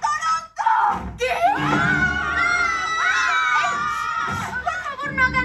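Several girls scream excitedly at close range in high, sustained shrieks that rise and fall over a few seconds, with short bursts of talk and a thump at the start.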